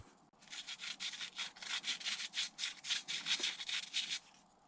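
Rhythmic rasping strokes, about a dozen quick back-and-forth scrapes of a drill bit working through a hard part of an Arrma Mojave 6S RC car, evenly paced and fairly close.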